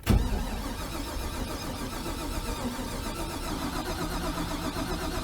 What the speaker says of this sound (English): we're gonna crank on this thing and see if we can't get that oil pressure gauge to move a little bit